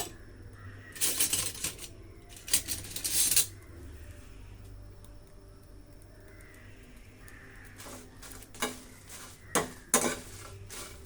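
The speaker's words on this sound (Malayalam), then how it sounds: "ഇത്രയും മുളക് നമ്മൾ ഒന്ന് ചൂടാക്കി പൊടിക്കണം" Dried red chillies being stirred and heated in a pan for mango pickle, with bursts of metal spoon scraping and clinking against the pan between quiet stretches, close and fairly faint.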